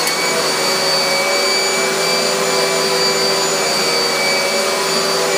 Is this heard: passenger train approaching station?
no